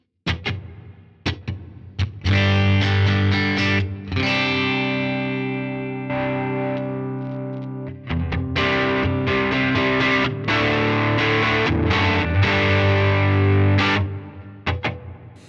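Electric guitar played through a Line 6 HX Stomp Plateaux shimmer reverb, sustained chords swelling into long shimmering washes that ring on between strums, loud and close with no talk.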